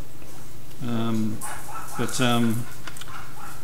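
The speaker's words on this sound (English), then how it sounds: "the dogs are going mad over something outside" Dogs barking indoors in two short bursts, the second a quick double, over a steady background hum; no talk.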